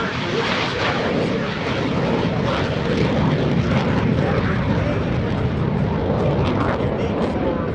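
An F-16CJ Fighting Falcon fighter jet flies at the NAS Oceana airshow, a loud, broad, continuous roar of engine noise that stays even throughout, with a commentator speaking over it on the public address.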